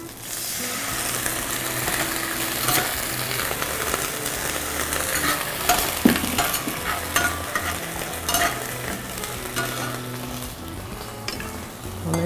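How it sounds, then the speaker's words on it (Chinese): Scallions stir-fried in a hot wok for orange juice pork ribs, a continuous loud sizzle with spatula scraping and stirring throughout, and no one speaking. "我现在先把葱下去， 葱爆香后我们要放一点醋跟糖"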